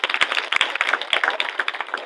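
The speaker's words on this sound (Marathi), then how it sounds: "एक टाळी सर्वांनी वाजवा." A crowd claps together in a short burst of applause at a gathering, a couple of seconds of dense, overlapping hand claps fairly close by, with no talk over it.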